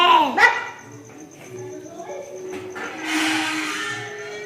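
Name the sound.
dog barking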